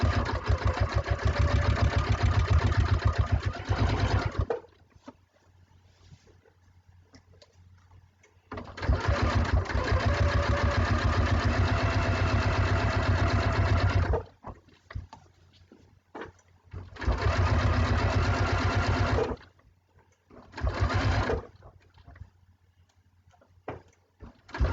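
A sewing machine stitches binding onto a quilt in loud, close bursts of rapid whirring, several runs of a few seconds each separated by quiet pauses.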